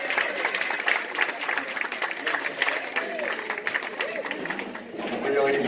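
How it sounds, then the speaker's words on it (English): A crowd applauds Sergeant Langdon of the Norristown Police Department at a senior event, dense clapping running steadily throughout with voices and chatter mixed in. "Let's give him a round of applause."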